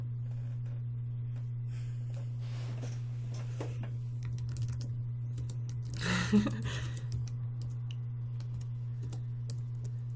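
Faint keyboard typing sits in short scattered clicks under a loud steady electrical hum, with a brief louder rustle partway through.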